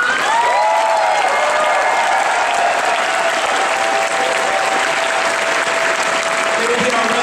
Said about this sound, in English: Everybody, round of applause for Basic